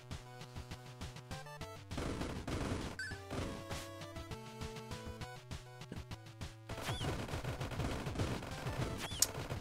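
Rapid, rhythmic Vulcan gun fire stutters on in the top-down shooter Monolith, mixed with game music and sharp hit sounds, with no voices.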